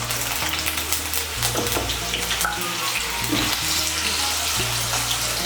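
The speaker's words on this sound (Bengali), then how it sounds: "এই তেলের মধ্যে আলুগুলো ভেজে নেব।" Potato pieces fry in hot oil in a pan, a loud, close, continuous sizzle and bubbling with a few stirring scrapes, with no talking.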